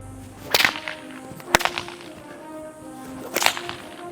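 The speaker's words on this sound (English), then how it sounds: "I've gotta go outside and see if I can crack these whips." A 10-foot whip is cracked outdoors three times, each a sharp, loud snap about a second or two apart over a steady background hiss and faint hum.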